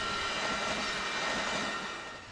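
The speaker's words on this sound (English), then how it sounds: "we see the train in early August as it heads through Gilroy" The Amtrak Coast Starlight passes through Gilroy, California, in a steady broad rushing roar with a faint tonal hum that fades slightly toward the end.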